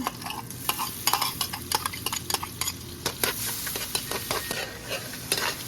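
Garlic frying in a pan for buttered Cajun shrimp and sausage, a soft continuous sizzle broken by frequent utensil clinks and scrapes against the pan, close up.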